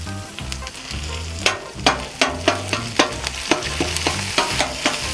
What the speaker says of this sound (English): We're gonna throw down our chorizo. I'm using pork chorizo.